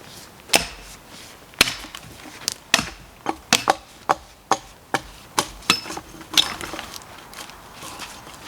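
Wood being stripped by hand for a bushcraft shelter, heard as a series of sharp, irregular chopping knocks. About a dozen close, distinct strikes land over a quiet outdoor background.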